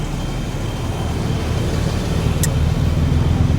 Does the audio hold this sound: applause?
no